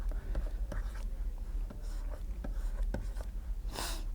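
Pen or marker strokes drawing a diagram by hand, close and dry, with scattered taps and short scratchy strokes and a longer hissing stroke near the end, no talk.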